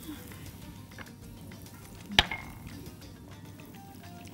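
Garlic and butter sizzle in a pan with a steady, faint frying hiss, broken by one sharp clink near the middle as something strikes the pan.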